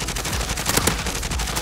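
Rapid automatic gunfire in Call of Duty: Modern Warfare, a dense rattling burst of shots running the whole moment with a couple of louder, sharper reports near the middle, no voices.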